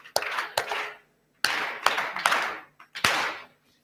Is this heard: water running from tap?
no